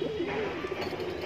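Border high flyer pigeons at a sale coo in soft, repeated throaty notes, close and fairly loud against a busy background.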